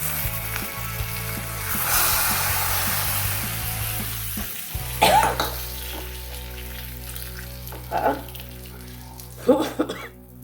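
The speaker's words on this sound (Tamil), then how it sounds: "இப்போ ரசம் நல்லா பொங்கி வர்றது" Buttermilk rasam, made without onion or garlic and seasoned with neem leaves and fenugreek powder, sizzles and bubbles steadily in a pot, with a low hum underneath and a few sharper clinks or stirring bursts.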